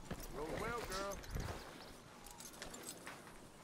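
Horse hooves clip-clop in Red Dead Redemption 2, a short run of steady hoofbeats sitting under a voice, which is louder at the start and then drops away.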